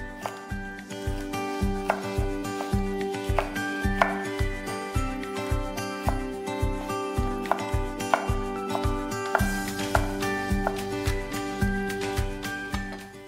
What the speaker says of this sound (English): Carefully press down the carrot and slice into matchsticks.